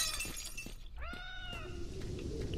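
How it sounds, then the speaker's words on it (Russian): A cat meows once in the video game S.T.A.L.K.E.R.: Shadow of Chernobyl, a short rising-and-falling cry rising out of continuous noisy game ambience. "Кошка."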